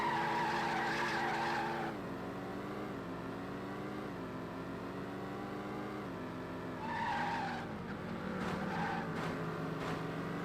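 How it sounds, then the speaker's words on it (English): A steady, rumbling muscle car engine in a racing video game drones continuously with shifting pitch, alongside tire squeal and skidding noise, fairly distant and unbroken throughout. "This car sounds like a muscle car."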